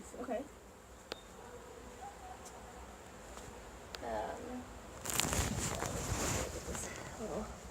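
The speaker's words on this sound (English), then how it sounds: "There's a bunch fanning at the entrance." Honeybees fanning at a hive entrance give a faint, continuous high buzz, with a few louder insect passes and a burst of activity near the end, while people talk quietly at times.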